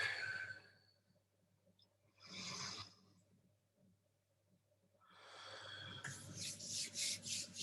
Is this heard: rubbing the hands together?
yes